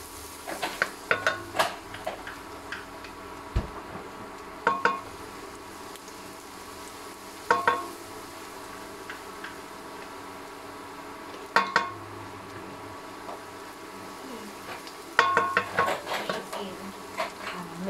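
Garlic fries in a pan under a soft sizzle while a utensil scrapes and knocks against the metal in sharp bursts every few seconds, with quiet background voices now and then.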